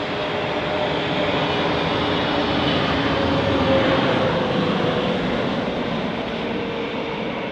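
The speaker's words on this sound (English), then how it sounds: "EasyJet A320 Neo." An EasyJet Airbus A320neo airliner at Manchester Airport produces a continuous, fairly loud engine rumble and whine, swelling slightly mid-way and then easing, heard alone without talk.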